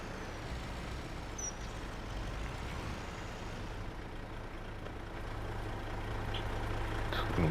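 A semi truck engine idles in the Farming Simulator video game, a steady low diesel rumble that holds throughout and grows slightly louder toward the end, with no voices over it.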